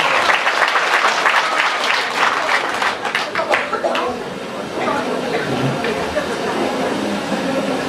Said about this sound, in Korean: 모두 큰 박수로 환영합니다.